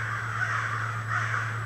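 Crows cawing at a lakeside campsite in the morning, two short bursts of harsh calls at a moderate distance over a steady low hum.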